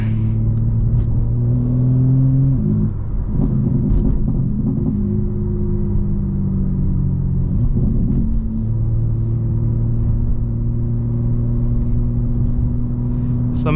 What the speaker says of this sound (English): Burbles are on, as you can hear.